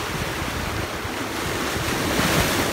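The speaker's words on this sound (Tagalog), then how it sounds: "Kasi malalaki yung alon, no?" Big ocean waves surge against a beach near a house, a constant roaring wash of surf with heavy wind buffeting the microphone, building slightly louder toward the end.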